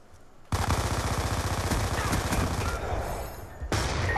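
Light machine gun fire in a video game, a loud continuous rapid burst lasting about three seconds, then a short pause before another burst begins.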